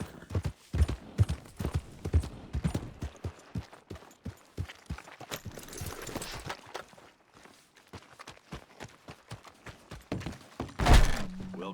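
In Red Dead Redemption 2, a horse's hooves clip-clop in a steady walking rhythm on hard ground, close and distinct, with a brief louder thump near the end.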